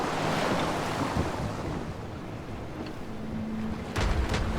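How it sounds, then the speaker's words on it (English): Sea waves wash and surge in a cutscene of The Caribou Trail video game, a broad continuous roar with wind, fairly loud and even, ending in a brief stronger splash with no voices. "The many-voiced sea."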